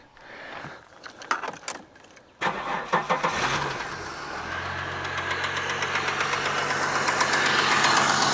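An Ecotec car engine cranks and fires up in a shed, a few clicks and knocks before it catches, then settles into a steady idle with a light rattling knock that grows slightly louder.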